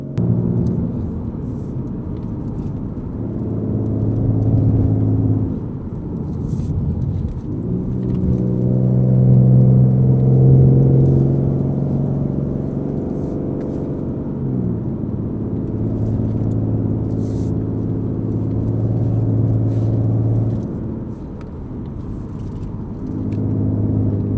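A low-horsepower car drives curvy back roads, its engine droning steadily from inside the cabin and rising and falling in pitch as it speeds up and slows through the bends, with no talking.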